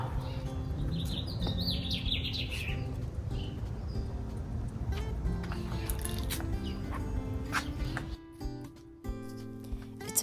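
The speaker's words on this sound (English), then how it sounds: "The birds are really singing." Birds chirp and tweet through a quiet morning outdoors, a scatter of light calls with continuous low background noise throughout.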